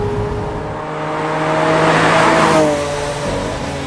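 Lamborghini Aventador Roadster supercar driving on an airport runway, its engine note steady and loud, swelling as it accelerates and then easing off, with a faint tire squeal mixed in and no voices.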